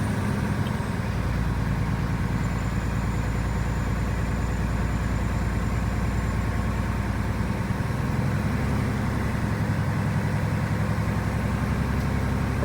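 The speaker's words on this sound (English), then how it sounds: "we're going to build up air pressure and we're going to rev it up between 10 and 15 RPMs right there" A truck engine idles steadily during an air brake pre-trip check, building air pressure toward cutout with a loud, constant low rumble. A faint high whine runs over it, and no one talks.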